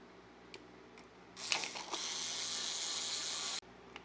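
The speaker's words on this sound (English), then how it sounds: "a regular ratchet that's not as skinny as this, you might scratch the top a little bit" Thin ratchet tightening a light mount on a 2024 Honda Goldwing trike, a few faint clicks, then a loud sustained rasp of rapid ratcheting for about two seconds, ending abruptly, close and alone.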